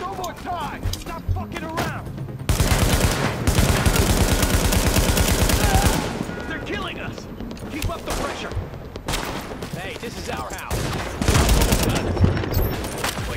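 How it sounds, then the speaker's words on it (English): Submachine gun fire in The Division: dense, loud bursts of automatic shooting with thudding impacts, strongest in one sustained stretch and then in shorter volleys, with a voice talking in between. "Let's use this submachine gun."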